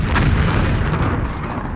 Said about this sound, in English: Our assault guns open up